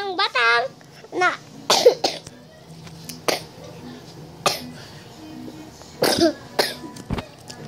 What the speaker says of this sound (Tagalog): inuubo po ako